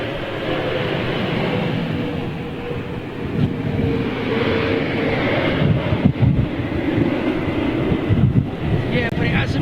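Strong gusty wind buffets an outdoor microphone at Heathrow Airport in London, a steady low roar with surges throughout, and faint voices beneath the rumble.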